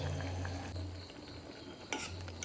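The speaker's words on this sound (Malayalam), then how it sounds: "ഇടയ്ക്കൊന്ന് ഇളക്കി കൊടുക്കുക കേട്ടോ" Orange peel simmers in orange juice as a spoon stirs it, giving a faint bubbling hiss under low, soft scraping, with a short louder scrape near the end and no talking.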